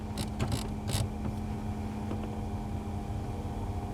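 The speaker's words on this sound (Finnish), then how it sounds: "kyllä toi niin kun moottori ja vivusto ainakin toimii ihan niin kuin se pitäisi" A BMW heater valve motor and its linkage run through a movement cycle, giving a steady low mechanical hum with faint creaks and a few brief clicks. The sound is close and quiet, and no one speaks.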